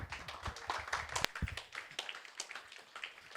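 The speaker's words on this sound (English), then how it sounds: "can we please give He him will an coordinate. applause?" An audience at a startup funding talk applauds in a soft, scattered patter of claps that goes on steadily for a few seconds, heard from some distance.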